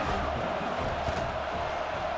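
Home crowd at a football game cheering in a steady, distant roar that holds at an even level throughout.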